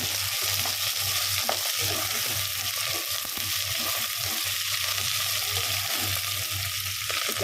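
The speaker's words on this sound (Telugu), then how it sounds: "ఇల్లనే మంచిగా ఫ్రై అవుతుంది చూడండి" Chopped onion fries in oil for an okra curry, giving off a continuous, even sizzle with faint stirring scrapes underneath, close by and steady throughout.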